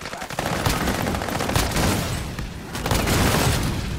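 Gunfire in Call of Duty: Modern Warfare: rapid, sustained bursts of automatic fire rattle nearly without a break, with a short lull before another burst, and game voices mix in.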